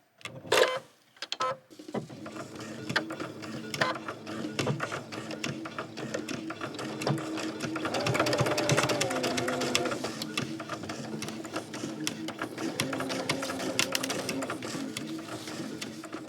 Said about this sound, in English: you just stitch right on top of that stitch line